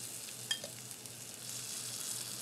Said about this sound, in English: we'll just kind of stir this together until the cornstarch is kind of dissolved here